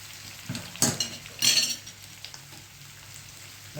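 Cumin seeds tempering in extra oil for a potato and peanut farali khichdi, a few sharp bursts of crackling sizzle and a clink of a utensil close by, then a steady low fry.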